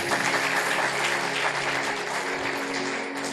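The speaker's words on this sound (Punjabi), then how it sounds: "ਤਾਲੀ ਮਾਰੀਏ ਜ਼ੋਰ ਦੇ ਨਾਲ।" Congregation clapping hard through a church sermon, a dense, steady wash of many hands that holds loud and unbroken from start to finish.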